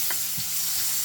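Carrots and other vegetables frying in hot oil for escovitch saltfish, a short steady sizzle with a couple of soft stirring knocks, close by and without talk.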